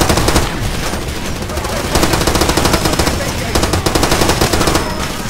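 A picked-up gun fires continuously in the video game Far Cry 2, producing loud, dense automatic bursts with rapid repeating shots and almost no pause across the whole stretch.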